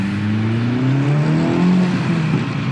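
A Honda Civic Type R engine revs up under acceleration while not fully warmed up, its pitch climbing steadily as it pulls away, loud and close throughout.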